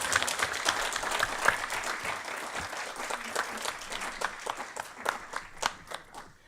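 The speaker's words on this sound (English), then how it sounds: "So please, can you join me and give her a really big applause?" An audience at an international academic conference's closing panel in Aston bursts into sustained, dense applause, many hands clapping steadily for several seconds with a few sharper claps standing out.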